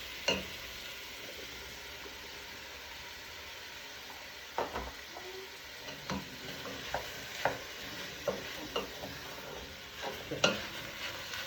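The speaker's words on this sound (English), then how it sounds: "I'm going to add my peppers." Peppers drop into a pan of half-cooked chicken and sizzle quietly, with a low steady frying hiss broken by scattered stirring clicks and scrapes that grow more frequent toward the end, while minted chicken pasta is being made.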